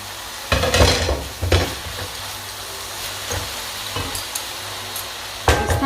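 Vegetables for an Italian savoury pie (torta salata) cook in a pan with a steady soft sizzle, broken by several loud bursts of stirring and scraping, close and without talk.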